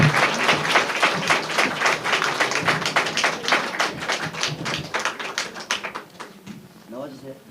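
Audience at a family puppet-show church service claps for a performer, a dense run of sharp, fairly close hand claps that fades toward the end, with voices mixed in.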